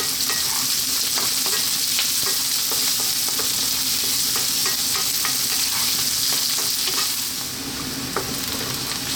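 Finely chopped onion sizzling and frying over high heat while being stirred, a steady loud hiss with repeated scraping clicks from the stirring, with no voices.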